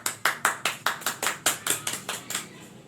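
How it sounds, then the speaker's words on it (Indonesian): A class of students gives a short round of applause for a classmate. About a dozen crisp, evenly spaced claps sound in a quick steady rhythm, close and clear, with no talk over them. "Tepuk tangan untuk Caca."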